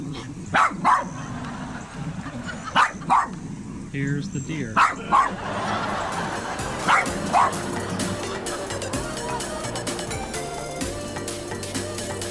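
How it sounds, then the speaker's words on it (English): A dog barks repeatedly in short bursts at a deer that has come into the yard, with someone speaking over the barking, which continues in loud clusters against outdoor noise. "This is our vicious dog trying to attack a deer that came in the yard."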